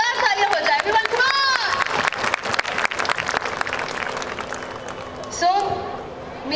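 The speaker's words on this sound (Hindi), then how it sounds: "एक बार women power के लिए एक बार जोरदार तालियां हो जाए" An audience at the Aadhi Aabadi Women Achievers Awards 2015 breaks into loud, dense applause with some cheering. The clapping fills the hall and then tapers, and a voice rises over it.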